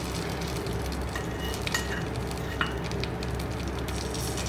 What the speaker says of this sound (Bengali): এটা আমি 2 মিনিট একটু ভেজে নেব এই গোটা গরম মশলাটা।